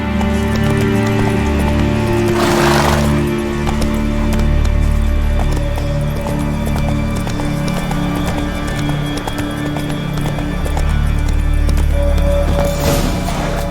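Geralt's horse Roach gallops in The Witcher 3, a loud, steady clip-clop of hooves running continuously for over ten seconds, with brief bursts of other game noise.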